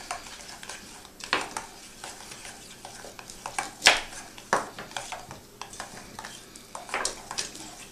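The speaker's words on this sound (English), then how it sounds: "And just stir it." A spoon stirring a grated horseradish mixture in a bowl, with irregular scraping and clinking strokes, close and fairly loud, with no talking.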